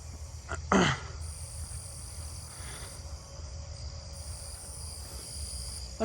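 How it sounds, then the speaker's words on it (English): Southeastern field crickets trill steadily, joined by other crickets and katydids in a dense outdoor night chorus. Continuous and moderately near, with a brief rustle early on. "That's close. Southeastern field cricket."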